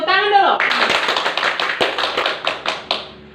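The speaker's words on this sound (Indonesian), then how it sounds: "tepuk tangan dulu" A group claps hands in a brisk burst of applause lasting a few seconds, after a voice, then trails off with a few final claps.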